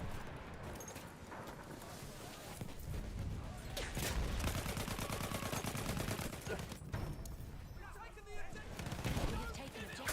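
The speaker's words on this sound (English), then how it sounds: "There's a machine gun." Sustained automatic gunfire from a machine gun in Battlefield 6 multiplayer, dense rattling bursts with booming impacts layered over continuous battle noise, fairly loud and close, with a voice talking over parts of it.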